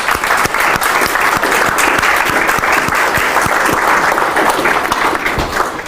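Loud, dense applause from a keynote audience honoring a team of charity cyclists, continuous and close throughout.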